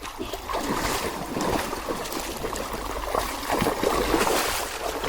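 Water drains from the exhaust of a tipped-up trail motorcycle, a continuous close trickling and splashing stream that holds steady throughout without speech.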